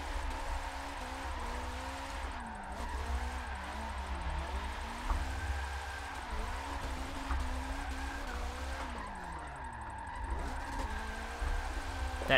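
A Mazda Miata drifts in Forza 7, its engine droning and rising and falling with revs while tires squeal steadily through long slides, continuous and close with no talk.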